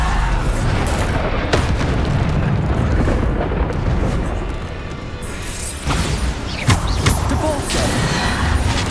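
Bombarda explosion spells cast repeatedly in the Hogwarts Legacy video game during a duel trial, a dense, loud stretch of booming blasts and crashing mechanisms with sharp impacts near the end.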